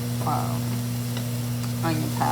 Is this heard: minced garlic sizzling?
yes